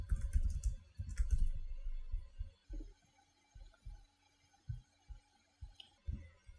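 A computer mouse clicks quietly while paging through a form preview in Liferay DXP 7.4. Soft, separate clicks come at an uneven pace over low background noise, with no voices.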